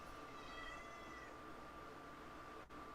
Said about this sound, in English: It looks like we have both of us have cats yowling in the background.